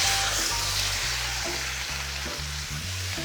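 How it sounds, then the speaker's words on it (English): Orange sauce sizzles loudly in a hot pan during an udon noodle stir-fry, a continuous hiss with a low humming tone underneath, no voices. "now I'm gonna pour in that orange sauce that I made"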